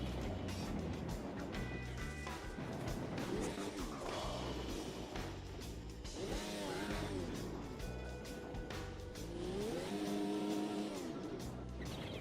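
Rallycross cars race in the video game AMS2 with engines that rise and fall as they rev through gear changes. A couple of cars pass close by, and light tire noise runs under a dense engine roar.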